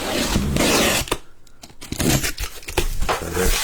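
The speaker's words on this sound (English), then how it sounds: "I'm going to cut this case open" A cardboard case of 2025 Topps Allen & Ginter trading cards is cut and ripped open, making loud, close tearing and crinkling bursts with a short quiet pause in the middle.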